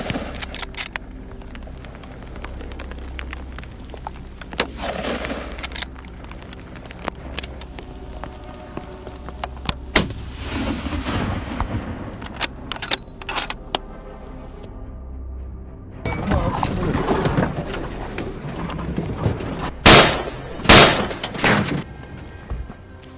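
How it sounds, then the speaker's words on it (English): Hunters fire at a wild boar in a field, and a few sharp, loud cracks burst out near the end over rustling background noise. "He adjusted his stance, chose the perfect angle, and pulled the trigger. A rapid burst of gunfire echoed"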